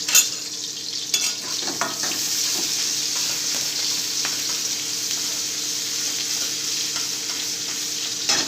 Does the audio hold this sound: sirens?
no